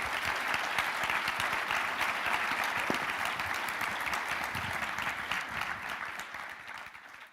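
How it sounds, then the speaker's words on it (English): Sustained applause from a conference audience closing a panel session at a competition-law summit, dense steady clapping from many hands that carries on for several seconds before easing slightly at the end. "just give them a round of applause"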